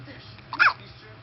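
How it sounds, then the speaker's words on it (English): A dog's violent hiccup, one short sharp burst at close range, heard once over faint background noise. "This is Emerson and his violent hiccups."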